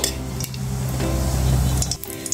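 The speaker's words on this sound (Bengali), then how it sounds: "ফোড়নে দিয়ে দিলাম জিরা ও তেজপাতা" Cumin seeds and bay leaves sizzling in hot oil as tempering for a Bengali tube fish curry, with a steady, close frying hiss and a few faint utensil clinks.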